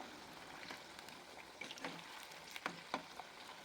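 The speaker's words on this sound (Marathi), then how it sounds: "सुरुवातीला तेल चांगलं गरम होऊ द्या आणि नंतर मंद आचेवर हे बटाटे तळून द्या." Potato pieces frying in hot oil over a low flame, a faint, steady sizzle with a few soft pops and stirring clinks.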